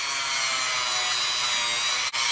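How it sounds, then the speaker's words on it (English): A power tool enlarges a hole in the scale of a Victorinox Ranger Grip 178 knife, giving a continuous, close, high-pitched grinding whir with one brief dip near the end. "We're just enlarging this hole."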